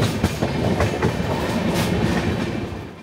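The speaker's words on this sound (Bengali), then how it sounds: "রাত 9:35 আমাদের ট্রেন ছেড়ে দিল লখনৌ স্টেশন" The 12331 Himgiri Express passenger train runs at night after leaving Lucknow, heard from inside as a loud, steady rumble with a rhythmic clickety-clack of wheels on the rails.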